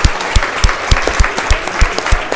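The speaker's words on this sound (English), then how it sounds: "So a big round of applause for Dara Patterson." Spectators at an under-14 hurling semi-final clap for an injured player leaving the field, a small outdoor crowd giving steady, fairly close applause with distinct individual claps falling in a loose, regular rhythm.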